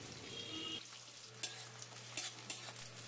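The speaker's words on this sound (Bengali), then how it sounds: "পেঁয়াজটা লাল করে ভেজে নেব।" Chopped large onion fries in mustard oil with panch phoron. The sizzle is soft and steady, with a few sharp clicks and scrapes from stirring.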